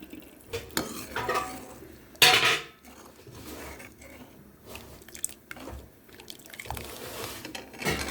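Dal is stirred into a pot of red amaranth leaf curry, with scattered clinks and scrapes of a spoon against the pot and soft wet stirring, close and moderately loud with no talking.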